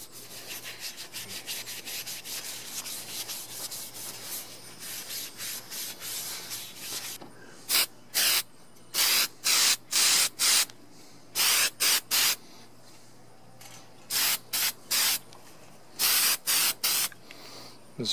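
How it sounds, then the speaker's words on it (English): Repeated short hissing bursts from a spray can coating a chain link fence, close and loud, following a stretch of continuous spraying and rubbing. "And spray you a good coat on there."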